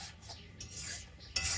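A utensil stirs and scrapes a sweetened fried milk mixture in a pan to dry it out, making a few short, close scraping strokes.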